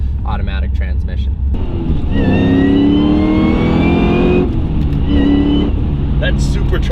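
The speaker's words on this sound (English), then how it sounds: "That supercharger whine is awesome." A 1000 hp supercharged Cadillac CTS-V with a Cook's exhaust revs loudly nearby, its supercharger whine rising and falling in pitch between bursts while people talk over it.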